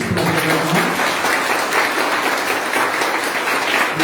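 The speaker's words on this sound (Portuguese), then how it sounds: "Vamos aplaudir a Jesus" A church congregation applauds together during a Santa Ceia (communion) service in Garanhuns, a steady, dense wash of clapping filling the room for the whole stretch, with a faint voice briefly audible near the start.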